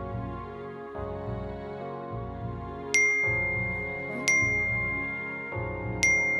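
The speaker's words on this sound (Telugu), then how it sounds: "నీ ఫోన్ కి నోటిఫికేషన్స్ వస్తున్నాయి." Phone notification chimes ring three times at roughly even intervals, each a bright ding over a continuous musical background.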